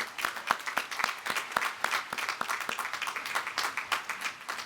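Harvard Law School graduates applaud themselves at Class Day, a steady, moderately loud crowd clapping with sharp individual claps standing out throughout.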